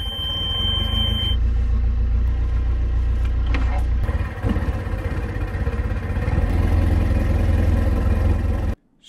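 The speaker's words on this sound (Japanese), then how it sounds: "じゃあエンジンかけていきます" A fishing boat engine starts up and settles into a steady, loud low rumble, running continuously close by before cutting off abruptly at the end.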